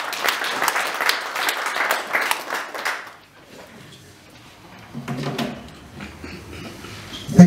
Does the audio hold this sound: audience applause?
yes